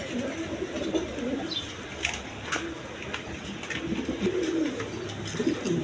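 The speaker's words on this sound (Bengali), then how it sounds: "বন্ধুগণ এখানে এক পেয়ার ইম্পোর্টের কবুতর আছে" A pair of imported pigeons cooing, soft repeated coos close by against a low background hum, with a few brief sharper calls and no talking.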